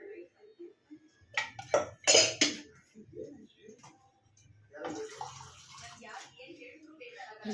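Water is poured into a mixer jar holding sambar powder and chilli powder, giving brief splashing bursts close up, followed by faint clinks and a cough as someone talks.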